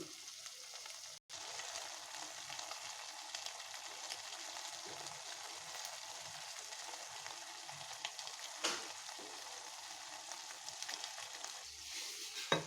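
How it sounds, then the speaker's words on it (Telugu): Quiet, steady sizzling of potatoes and cauliflower frying in a pan, with a brief stir or clatter and no talk. "ఆలు వేగుతుంది కదండి ఇప్పుడు మనం వేడి నీళ్ళలో నానబెట్టుకున్న కాలీఫ్లవర్ వేసుకుందాం"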